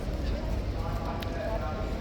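Hooves of the King's Troop Royal Horse Artillery horses clip-clop at Horse Guards in London, steady and continuous beneath a dense crowd and outdoor noise wash, with talk mixed in.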